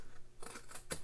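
Scissors snip through a thin paper tab on a handmade strawberry treat box, a few quick crisp cuts close by, with no talking.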